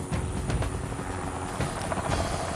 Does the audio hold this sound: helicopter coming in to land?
yes